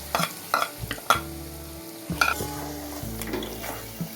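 Spice masala with coriander-cumin powder and red chili powder frying in oil for rohu fish do pyaza, a close sizzle punctuated by repeated spatula scrapes and taps against the pan, irregular and fairly loud.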